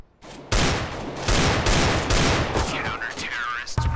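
Counter-Strike: Global Offensive gunfire on the Dust2 map comes as loud, close bursts of rapid automatic shots that run almost continuously after a short quiet start. A voice briefly cuts in near the end.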